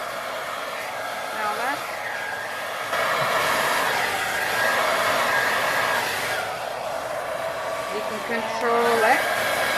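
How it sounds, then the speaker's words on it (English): A handheld hair dryer blows steadily over a resin pour on canvas, a loud continuous roar close by, with brief talk over it. "When you have a hairdryer, everything gets flying off the canvas as well as off your table."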